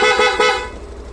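A loud, steady Suzuki Access scooter horn blast held for about a second, fading slightly at the end, with no voices.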